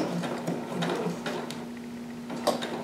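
A home sewing machine stitching straight across fabric for a harem jumpsuit, producing a fast rhythmic mechanical whir and needle clatter with brief pauses, close and fairly loud, no speech.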